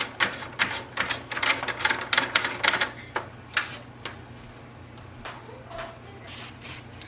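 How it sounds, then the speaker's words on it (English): A toothbrush scrubbing the paper roller of an HP DeskJet 2700 printer gives a run of quick, close, bristly strokes in bursts for about three seconds, then scattered fainter scrapes and taps. "I'm just going to use a toothbrush. And just try to clean it."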